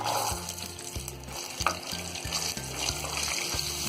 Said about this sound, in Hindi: तो मटर को हमने यहाँ उबाला नहीं है, हम यहाँ पर थोड़ा सा इसे फ्राई कर लेंगे।